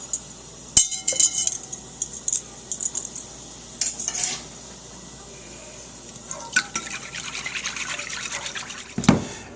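Liquid smoke is poured into a beef jerky marinade of garlic and onion powder, heard as light trickling and pouring with clinks of a spoon or container, close and fairly quiet, no voices.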